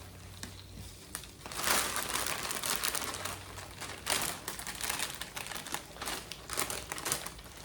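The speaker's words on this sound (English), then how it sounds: "I'm gonna throw in all of this spinach" Raw spinach dropped into a pan with olive oil for a kimchi spinach shrimp dish gives a dense, crinkly crackle, building after a quiet start and continuing in bursts of rustling and popping, close and steady.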